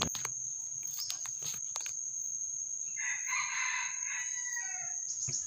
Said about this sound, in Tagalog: Yan yung tilaok ng ating mansuhin master, sobrang liit lang.